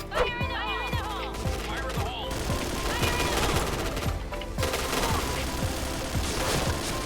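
Gunfire in the first-person shooter game Point Blank while the player jumps, repeated sharp shots in a dense rapid volley over busy game sounds and music, heard steadily throughout.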